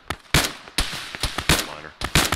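Video game gunfire cracks out in rapid, irregular bursts of sharp shots, loud and close, with brief gaps between volleys.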